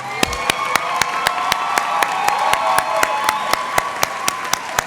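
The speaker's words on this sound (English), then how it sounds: "let's give them all the biggest round of applause possible" An audience applauds graduates at a Latina/o graduation celebration, with sustained crowd clapping and some cheering, and a few sharp, close handclaps cutting through at a steady rhythm on top.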